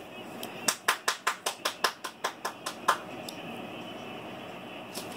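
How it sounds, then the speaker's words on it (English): Applause from a football match playing on a television in the room: a quick run of about a dozen sharp claps over roughly two seconds, slightly distant, followed by quiet room tone and a faint stray clap. "my mom is watching football, so yeah, that's why you heard those clapping"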